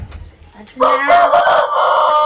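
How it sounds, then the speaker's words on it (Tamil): A rooster crows loudly and close by in a village yard with goats and pigeons, one long drawn-out call, with some faint clucking and rustling just before it. "கோழி சத்தம் கேட்குது இல்லைங்க"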